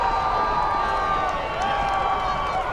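A college lacrosse crowd, Notre Dame against Michigan, roars and cheers in a steady, dense wash of voices filling the arena after a diving goalie save in the cage.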